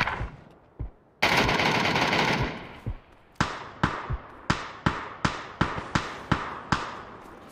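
Gunfire in the PUBG battle royale video game: a few isolated shots, a loud burst, then a steady rhythmic string of about ten sharp single reports, crisp and fairly close.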